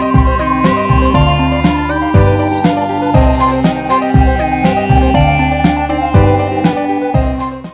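Pop beat built with Pro Tools stock plugins, loud and full: punchy kicks and snares in a steady groove under bright synth chords and a bouncing melodic bass line, with no voices.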